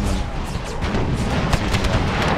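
Artillery fire in Empire: Total War, an American Civil War mod battle, sounding as a dense continuous rumble of booms and blasts with several sharper cracks near the middle, loud and unbroken throughout.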